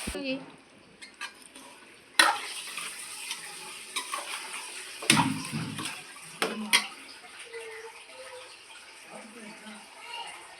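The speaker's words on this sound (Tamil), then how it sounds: "இப்போ எல்லாம் வெந்ததுக்கப்புறம் நம்ம மட்டன் போட்டு கலரிக்கணும்" Mutton being stirred and sautéed in a pan with cooked masala, scraping clinks of a spoon against the pot and a soft sizzle, intermittent and close, with occasional faint background sounds.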